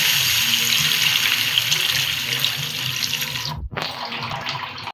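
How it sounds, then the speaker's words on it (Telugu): Two glasses of water pour into a pan for wheat rava upma, a steady splashing gush that runs for several seconds before it cuts off abruptly, then briefly resumes. "రెండు గ్లాసులు వాటర్ పోసానండి"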